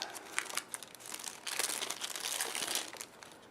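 Cardboard and plastic packaging of a Samsung Intensity II phone box crinkles and rustles as it is opened, in irregular close, soft bursts that thicken toward the middle.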